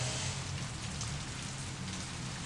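Rain in the Blade Runner video game falls as a steady, dense patter with a low rumbling undertone, continuous and even throughout.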